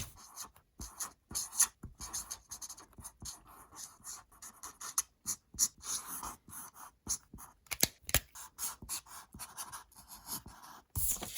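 An Artistro dual tip alcohol marker colours on copy paper with quick, scratchy, close-up strokes that come in irregular bursts and brief pauses.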